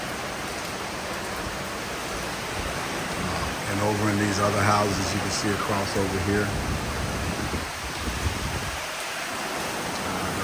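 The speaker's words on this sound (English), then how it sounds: "it's raining like crazy" Heavy typhoon rain pours off a roof in Cavite, a dense constant roar of water under a covered lanai, while someone talks over it for several seconds in the middle.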